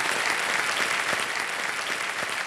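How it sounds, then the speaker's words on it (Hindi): A studio audience on a television quiz show applauds to welcome new contestants, a sustained, even burst of many hands clapping at moderate volume with no voices over it. "मैं चाहता हूं कि आप सब तालियों के साथ इनका स्वागत करें."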